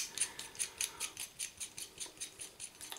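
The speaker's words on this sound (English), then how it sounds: "So we put the screws to it, as Jimco says." Safety razor top cap screwed down onto the head, giving a quick series of small metallic ratcheting clicks in a steady rhythm, close and quiet with no talking.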